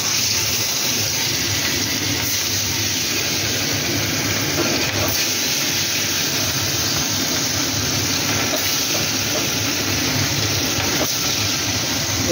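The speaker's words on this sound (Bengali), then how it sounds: "এই চিতল মাছগুলো আমি এক এক করে ভেজে নিচ্ছি।" Chital fish belly pieces fry in a pan with a loud, constant broadband sizzle and hiss of hot oil that stays steady and close without a break.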